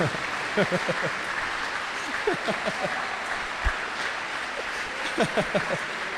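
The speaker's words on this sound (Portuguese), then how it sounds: "Dê um aplauso ao Senhor Jesus para eu me recuperar aqui agora." A church congregation claps in scattered, uneven bursts, moderately faint and spread across the room, while a preacher's voice carries over the top.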